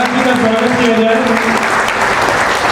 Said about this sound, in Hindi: मैं निवेदन करना चाहता हूँ कि एक बार जोरदार तालियों से